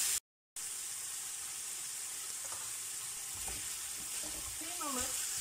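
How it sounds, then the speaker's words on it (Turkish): Steady sizzling of minced meat and chopped onion frying in a hot pan, close and constant, with occasional scraping from stirring. "İçerisine bir yemeklik doğranmış soğan da ilave ettik ve beraber ezerek kavuruyoruz."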